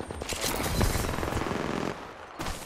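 Gunfire in the video game Apex Legends, with rapid automatic bursts crackling densely for about two seconds, then a short gap and another brief burst.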